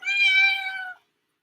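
A single clear cat meow, close and loud, lasting about a second before silence.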